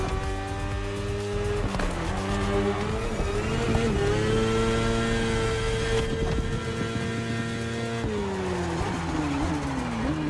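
A 2015 BMW S1000RR motorcycle racing in The Crew Motorfest, its engine screaming loud and steady with rising and falling pitch through gear changes, continuous for the whole stretch with no talk.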